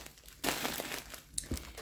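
A plastic bag of dried lobelia herb is handled up close, giving loud, rustling crinkles in a sustained burst followed by a few sharper crackles, with no speech.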